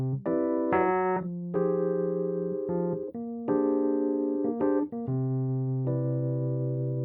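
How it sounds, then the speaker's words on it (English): A jazz backdoor 2-5-1 chord progression, resolving back to C, played as sustained harmonic chords with a few changes over about seven seconds, steady and fairly loud with no voices. "And that's the definition of a backdoor 2-5-1 progression."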